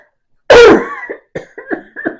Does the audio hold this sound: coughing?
yes